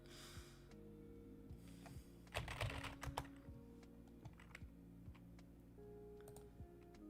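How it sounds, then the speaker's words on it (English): Quiet, crisp keyboard typing, a quick burst of clustered clacks followed by scattered lighter keystrokes, close up with no voices. "Crow, your keyboard makes the best sound ever"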